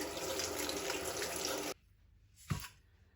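Okra is washed under a running kitchen tap, a steady hiss of water for nearly two seconds before the flow stops, then a brief splash or knock into the sink, close and without talk.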